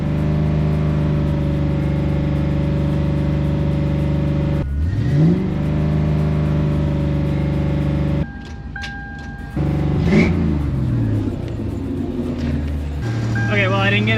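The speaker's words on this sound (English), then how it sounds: "4Runner started back up again" A Toyota 4Runner engine runs steadily and close up, revving briefly a couple of times, with a short quieter break in the middle.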